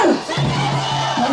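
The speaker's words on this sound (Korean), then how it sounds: "여러분들이 후창으로 승리한다를 외쳐주시면 감사하겠습니다" Crowd at a political rally shouting a chant back in unison, a loud massed roar of voices sustained over the whole stretch.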